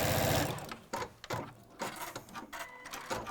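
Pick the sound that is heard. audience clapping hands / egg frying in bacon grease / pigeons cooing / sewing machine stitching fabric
sewing machine stitching fabric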